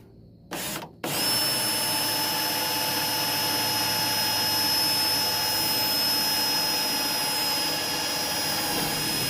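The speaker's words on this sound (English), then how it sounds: "Let's drill our hole." Power drill boring a hole through a car hood while building Shelby-style Mustang hood pin brackets: two brief bursts, then a loud, steady high-pitched whine held to the end, with no talking.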